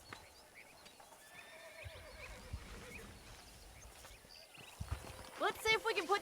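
Horses in the Red Dead Redemption video game, wild horses nearby, with hooves clip-clopping under game dialogue and a sharp whinny near the end.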